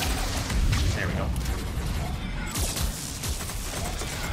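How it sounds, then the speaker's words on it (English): Deep, rumbling explosion blast in Mass Effect 3, designed to resemble a nuclear detonation, filling the whole clip with a loud, dense roar that swells near the start and again midway. "I love how they designed that explosion to be like a nuke."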